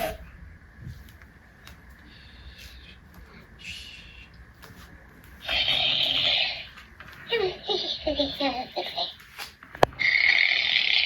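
Furby toy snoring as it sleeps, a faint electronic snore at first, then louder, breathy snore bursts with chirpy toy sounds, close by and repeated before it switches off.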